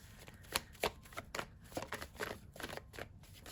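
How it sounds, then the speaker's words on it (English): Tarot cards being shuffled in quick riffling bursts, a series of crisp flutters and soft taps at close range, with no voices. "One more shuffle."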